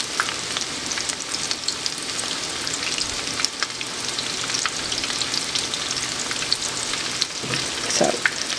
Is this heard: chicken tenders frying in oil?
yes